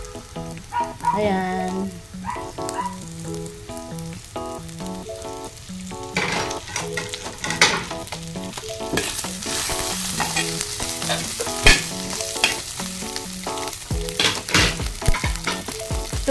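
Crab paste (bagoong) and jackfruit sizzle and fry in a pan while being stirred, with steady scraping and clattering through the clip and a brief spoken word near the start.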